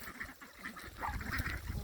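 Several geese give short nasal honks close by, overlapping in a brief noisy burst.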